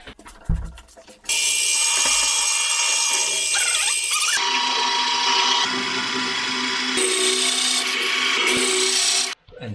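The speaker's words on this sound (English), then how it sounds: "we drill them out" A power drill grinds steadily into metal for several seconds, drilling out bolts on a Land Rover Discovery 3 electric parking brake, its pitch shifting slightly as it bites, then stops abruptly.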